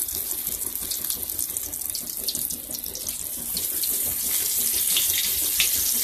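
Chicken gizzards dropped into hot oil in a wok give a steady, dense frying hiss that holds throughout and grows slightly louder toward the end, with no talking.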